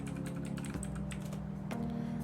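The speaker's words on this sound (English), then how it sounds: "I was typing while you were talking." Soft keystrokes tap on a computer keyboard, faint and irregular, beneath a steady droning background hum.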